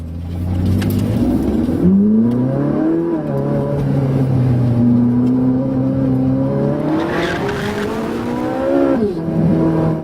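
A Ferrari with traction control switched off pulls away on a damp road, its engine revving loud and close and climbing through several gear changes.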